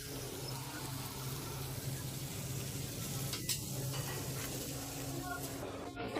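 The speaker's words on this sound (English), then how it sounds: "They are currently frying some delicious fish." Fish sizzling in oil in a hotel buffet kitchen at a beach resort, a steady frying hiss with occasional utensil clinks and faint background voices.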